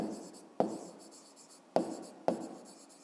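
Pen writing an answer on paper, soft scratchy strokes close up with a few sharper taps as the pen meets the page, quiet and alone.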